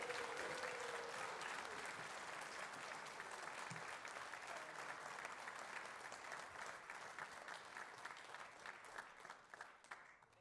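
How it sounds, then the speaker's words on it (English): Steady round of audience applause at an annual community awards celebration, dense and sustained clapping filling the whole stretch at even loudness, tapering slightly toward the end with a few murmuring voices mixed in. "We can give them one more round of applause while they're getting their photo taken"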